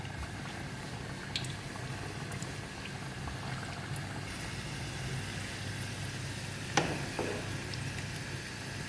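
Oil hisses steadily on a tawa griddle while savory cauliflower pitha fries, a continuous close sizzle with a faint clink partway through.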